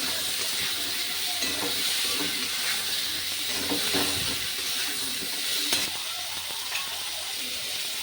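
Drumstick (moringa) pieces hiss and sizzle steadily in hot oil in a pan while a Bengali rohu fish curry is cooked, a loud, continuous close frying sound with occasional stirring scrapes.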